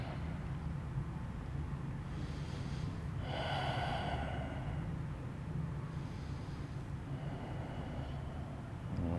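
Deep breathing during a seated twisting pose in a yoga flow, with slow, soft inhales and exhales rising and falling over a steady low background hum.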